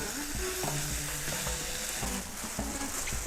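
Onions and chili fry in hot oil, a loud, dense, continuous sizzle with faint stirring scrapes, heard close up and without speech.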